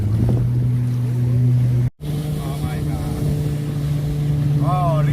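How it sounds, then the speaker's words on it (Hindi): A jet ski engine drones loud and steady, close up, as the water bike runs across the water in Sharjah, with splashing water beneath and a voice briefly audible. "Motorcycle water bike."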